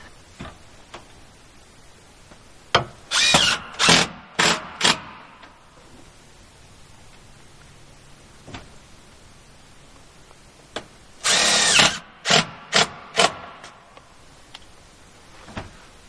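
Power drill driving screws through steel J trim around a window on a post-frame building, in two clusters of short, loud bursts separated by quieter stretches.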